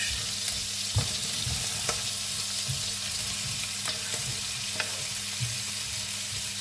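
Chilli con carne ingredients frying in olive oil, a steady bright crackling sizzle with a few faint utensil taps, close and continuous, no voices.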